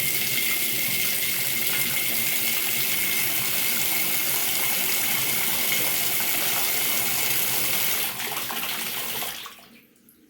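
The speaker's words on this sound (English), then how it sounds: "And then we'll turn on the faucet." Water runs steadily from a newly installed widespread bathroom faucet with the aerator removed, a close, constant hissing gush that cuts off near the end and leaves quiet.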